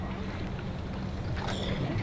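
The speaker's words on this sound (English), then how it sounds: "Okay, we're gonna cut the engine." A small electric motor drives a remote-controlled fishing kayak on open water, a steady low hum blended with wind and water wash, moderately loud and continuous.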